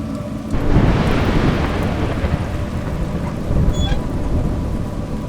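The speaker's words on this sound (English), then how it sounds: "It's raining." A storm in the video game A Juggler's Tale: rain patters steadily while a deep roll of thunder rumbles in near the start and swells again later, heavy and close.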